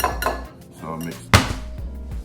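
A homemade SPG oat rub gets mixed in a bowl, with clinks and scrapes of a utensil against the bowl, a few rhythmic knocks, and one louder clatter midway, close and without speech.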